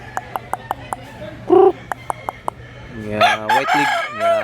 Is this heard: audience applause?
no